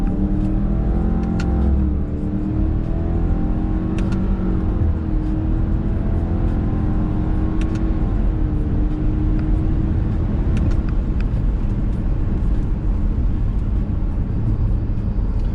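A 2022 Subaru at full throttle, its engine note climbing steadily under a constant loud cabin roar with rising harmonics for around fifteen seconds, no talk.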